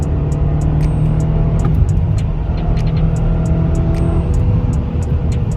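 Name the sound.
BMW E70 X5M engine revving on throttle press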